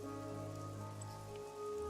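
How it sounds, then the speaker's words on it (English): Rain falls steadily in Toypocalypse, a soft continuous patter on surfaces beneath tonal game music, brief and quiet. "Think that we should leave the rain."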